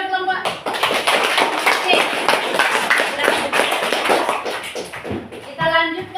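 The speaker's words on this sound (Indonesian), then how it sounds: "Coba tepuk tangan buat kelompok" A classroom of students claps for a student group, brisk and lively hand clapping up close, with a voice speaking briefly at the start and end.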